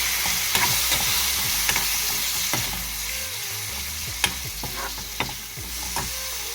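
Tomato sizzles in hot oil with turmeric while a spoon stirs and scrapes the pan in irregular clinks, a close, steady frying hiss beneath the strokes.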